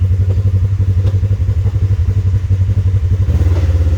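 A 2021 Polaris RZR XP4 1000 engine running after starting up, a loud, close, steady low throbbing idle with a slight rise near the end, no talking over it.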